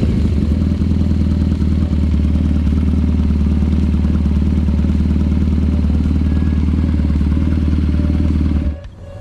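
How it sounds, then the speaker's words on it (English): A heavily modified BMW R nineT motorcycle engine runs close by, loud and steady with an even throbbing idle, then cuts off abruptly at the end. "So you just put the bike on and you start it."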